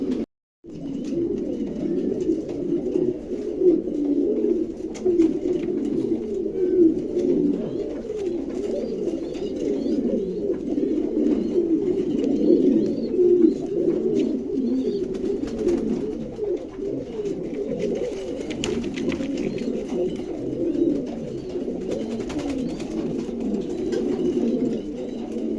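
Lahori pigeons coo continuously in a showroom, a dense chorus of soft throaty calls overlapping at steady loudness throughout, with no talk.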